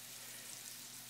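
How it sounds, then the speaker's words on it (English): Breaded cutlets coated in sesame seeds, Parmesan and breadcrumbs fry in a pan, giving a steady, even hiss and crackle close by, with no talk. "Okay, so they're frying up quite nicely."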